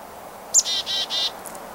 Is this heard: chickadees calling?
yes